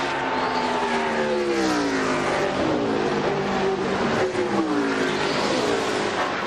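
NASCAR stock cars roar around the Indianapolis track on the final lap of the 2001 Brickyard 400: a loud, continuous engine drone with several overlapping cars, their pitch sliding up and down as they pass.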